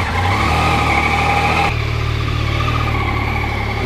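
A Yamaha MT-09 motorcycle engine on the move on a brisk fall morning, a loud steady drone with a shift in tone partway through, close and continuous with no talking.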